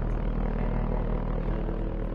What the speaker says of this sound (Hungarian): Helikopterek jönnek erre